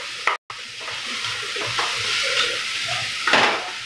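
Mixed vegetables including drumstick, brinjal and mango sauté in a pan with a pinch of rock salt, a close steady sizzle and hiss with brief stirring scrapes, growing louder near the end, no voices.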